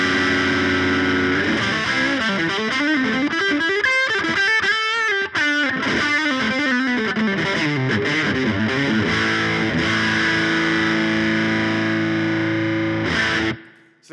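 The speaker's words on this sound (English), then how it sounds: "we put them together, and you get this wonderfully thick overdrive" Electric guitar runs through two stacked overdrive pedals, one a Strymon, giving a thick saturated tone as chords and bending melodic lines ring loud and continuous before a final strum cuts off.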